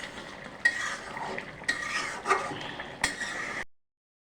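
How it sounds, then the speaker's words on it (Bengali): Beef is stirred and sautéed in a pan for an Assamese dish, with its released juices bubbling under several close spoon scrapes and clinks against the metal before the sound cuts to silence. "মাংসটা কষানো হচ্ছে"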